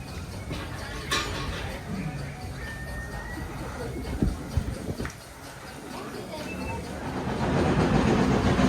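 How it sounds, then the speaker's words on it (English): A heritage railway train arrives at a platform on a private hill railway, its steady rolling rumble and hiss building, with brief clanks and a rising roar as it draws close near the end. "The train's coming."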